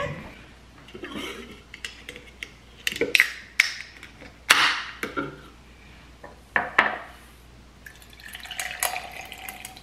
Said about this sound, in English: Pour myself a little dranky drink